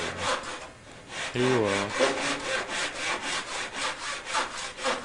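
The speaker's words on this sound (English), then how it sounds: "Want to hear a handsaw working?" A handsaw cuts through wood in steady back-and-forth rasping strokes, about eight of them in quick rhythm, loud and close, with one brief spoken phrase near the start.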